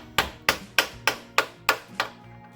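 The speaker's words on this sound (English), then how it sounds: "So I'm using a lead hammer." Seven evenly spaced, sharp metallic taps of a lead hammer driving an axle seal into a Ford 8-inch or 9-inch differential, loud and close, each ringing briefly before the next strike.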